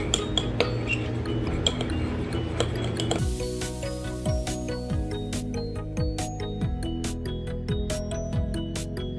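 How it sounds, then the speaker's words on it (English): A homemade cream paste is whisked in a bowl, with quick, busy clinks and scrapes of the whisk against the dish sounding close and continuous, with sharper tapping strikes in the latter half. "you have to whisk it and you have to make a thick paste out of it"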